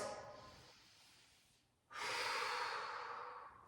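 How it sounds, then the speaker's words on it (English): Deep breaths during a yoga hip-opener stretch: a long, airy exhale that fades out, a short pause, then a strong, loud inhale-exhale rush that fills the rest of the clip, close to the microphone with no talking. "Take a big breath in and out"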